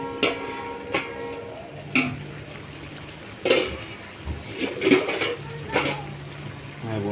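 Vegetables stirred in a pan in a home kitchen, with a lid clattering on: sharp metallic clinks and scraping taps at irregular intervals over a faint low sizzle, fairly close and without talk.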